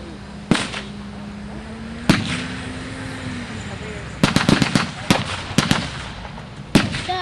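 Blank or rifle shots at a 1944 close-assault WWII reenactment ring out outdoors: two loud single reports spaced apart, then a quick burst of several shots and one more crack, with a low engine-like drone underneath.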